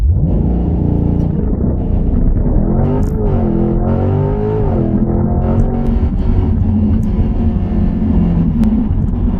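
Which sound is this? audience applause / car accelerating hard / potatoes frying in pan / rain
car accelerating hard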